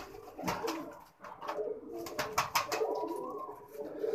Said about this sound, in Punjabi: ਉਹ ਸਰ ਬਹੁਤ ਖੂਬਸੂਰਤ ਕਬੂਤਰ